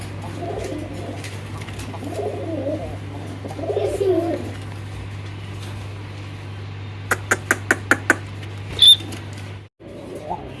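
Fancy pigeons, including black-faced and chocolate-faced pairs at a pigeon seller's, coo softly and intermittently over a steady low hum, with talk in the background and a short run of sharp clicks near the end.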